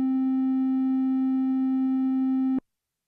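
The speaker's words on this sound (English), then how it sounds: "the triangle wave has sort of a softer sound to it" A steady, smooth, soft triangle-wave tone from a KORG Minilogue analogue synthesizer holds one pitch for about two and a half seconds, then cuts off abruptly into silence.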